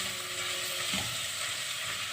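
Steady crackling sizzle of onion frying in a pan, a constant hiss with no voices.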